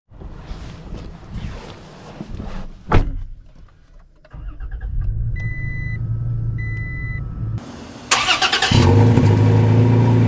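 A 2023 Toyota Tacoma TRD Sport pickup starts up after some handling and chime tones inside the cab, the engine catching and settling into a steady idle, close and fairly loud.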